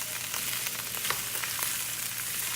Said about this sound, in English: Kind of just stir this around a little bit.